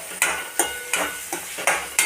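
Hot oil crackles as asafoetida is added and stirred in a pan, with repeated sharp scraping strokes at a steady rhythm, close and loud.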